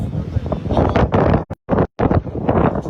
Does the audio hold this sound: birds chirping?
no